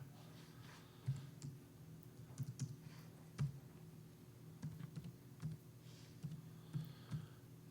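Someone types on a computer keyboard with light, irregular key clicks and taps in short bursts, close up and fairly quiet against a low background hum.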